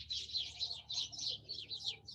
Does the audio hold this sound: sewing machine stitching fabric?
no